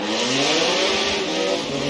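A Toyota Supra drift car fitted with a GTR Skyline engine revs hard during a drift qualifying run, its loud, rising and falling engine note held close and continuous, with no voices over it.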